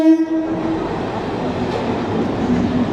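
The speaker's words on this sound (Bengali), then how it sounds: "ট্রেনটা ছেড়ে দিলাম, এত ভিড়ে উঠতেই পারবো না আমি" A train pulls away from a crowded station, opening with a loud horn blast that gives way to a steady, close rumble of wheels and carriages rolling past, with no voices.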